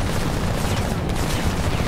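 Gunfire in the video game Homefront forms a dense, loud burst of rapid shots and booms that continues without a break through the short moment.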